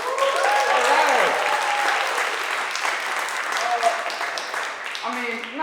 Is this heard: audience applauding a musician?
yes